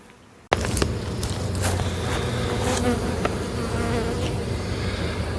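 Honeybees hum steadily around a hive while a few of them make orientation flights, a dense and constant buzzing close by with occasional bees zipping past, and no talking.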